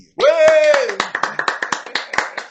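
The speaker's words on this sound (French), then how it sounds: "Public, vous avez le droit d'applaudir" An audience at a TV show claps in a quick, steady rhythm, the sharp claps ringing out under and after a loud voice.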